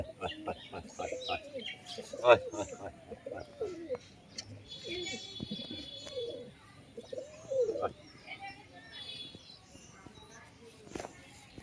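Kaldom pigeons cooing, low throaty coos repeating at irregular intervals nearby, fairly faint, while people talk in the background.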